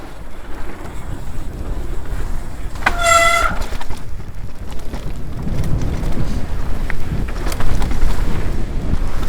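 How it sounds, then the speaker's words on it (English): Mountain bike front disc brake giving one brief, sharp tonal squeal while riding a flowing trail, heard over steady loud wind and rolling noise. "I just want my front brake to shut up."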